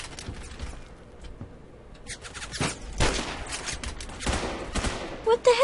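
Gunfire in the online shooter Phantom Forces: scattered bursts and single shots of varying loudness over a noisy game backdrop, heaviest near the middle and end.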